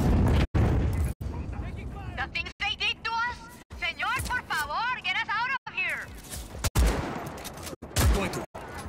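Gunfire in the open-world action game Just Cause 4: sharp broadband shots and bursts punctuate a busy mix, with loud cracks recurring every second or so, while someone talks over much of it.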